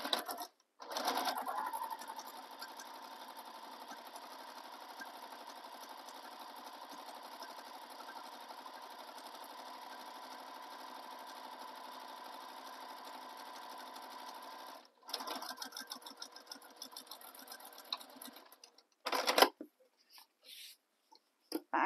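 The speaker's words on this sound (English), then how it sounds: "Now I'm going to top stitch the second side." Domestic sewing machine top-stitching the second side of a fabric tote bag, running in a long steady whir for about fourteen seconds, then stopping and restarting in shorter bursts with brief pauses, close and clear.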